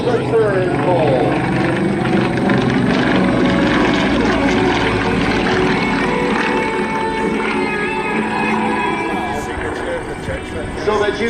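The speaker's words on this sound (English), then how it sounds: "another beautiful topside pass by Dan Fortin in Nanchang CJ6" A Nanchang CJ-6 propeller plane makes a topside pass at an air show in Gatineau, its engine and prop drone loud and close with shifting pitch as it sweeps by, under an announcer's talk.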